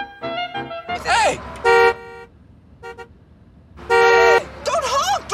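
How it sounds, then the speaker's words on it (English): A car horn honks in short bursts, loud and close, alternating with excited shouting voices in a street scene with vehicles. "Don't honk! Don't honk!"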